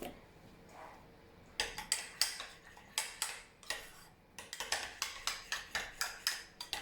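A spoon mixes pizza topping ingredients in a bowl: after a quiet start come rhythmic clinks and scrapes against the bowl, close by and steady, getting quicker toward the end, with no talking.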